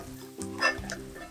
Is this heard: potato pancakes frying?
yes